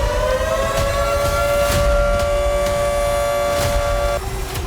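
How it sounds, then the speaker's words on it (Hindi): An air raid siren wails steadily over a Ukrainian city during Russian missile strikes, a loud sustained tone holding pitch for several seconds before dropping lower, over constant background noise. "कीव समेत कई शहरों में लगातार सायरन बजते रहे।"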